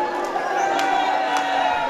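Crowd at a basketball game cheering and calling out, a steady moderate roar of many voices with a few sharp shouts rising above it.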